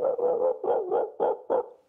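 A voice imitates a dog barking, giving a series of about six short, distinct woofs in an uneven rhythm, close and clear with no other sounds.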